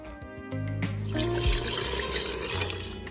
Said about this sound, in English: Next, I'm adding in some beef broth to give it some more added flavor.